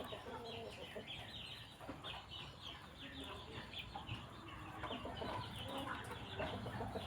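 A chicken weighing about 2.8 kilograms, with loose wing feathers, clucks steadily while handled on a farm. The clucking is close and continuous over busy farmyard noise.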